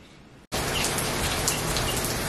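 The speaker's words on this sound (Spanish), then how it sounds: "Les quería mostrar qué bonito está lloviendo." Rain falls steadily after a brief quieter moment, a dense, even hiss of drops close by with faint sparse chirps in the background; the shower comes down while the sun is out.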